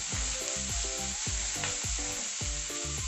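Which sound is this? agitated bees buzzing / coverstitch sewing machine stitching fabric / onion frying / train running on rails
onion frying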